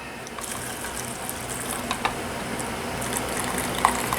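Black-eyed peas and their cooking liquid are ladled into canning jars, with soft liquid pouring and sloshing, a few light clinks of the ladle against the glass, and a faint steady background hiss.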